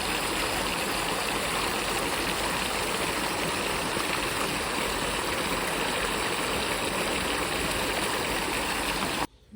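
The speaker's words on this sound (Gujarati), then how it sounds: "આવ્યું આવ્યું આવ્યું પાણી આવ્યું" Water gushes steadily into a large empty tank from a pumped supply, a loud, continuous rushing that runs unbroken for several seconds before cutting off abruptly at the end.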